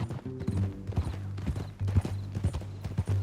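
Horse hooves clip-clop at a steady walking rhythm in the western video game Red Dead Redemption 2, close and distinct, with a low musical drone underneath.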